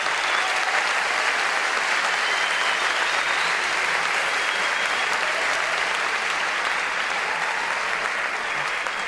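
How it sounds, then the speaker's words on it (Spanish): Steady, loud applause from a large crowd at a sold-out hall talk, continuous dense clapping with no pauses, nothing else heard over it. "Les pido un fuerte aplauso"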